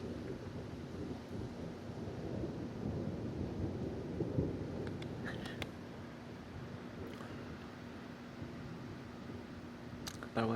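Thunder during a strong thunderstorm with high winds, a low, broad rumble over steady wind and rain noise, with a few sharp crackles and taps later on and no talking.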